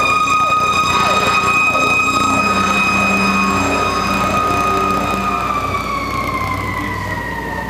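Radnor Fire Company fire truck siren sounding on a response, loud and close, with a steady wail and a sustained tone that slowly drops in pitch over a rumbling engine.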